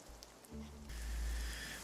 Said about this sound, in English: here we are, and it's raining again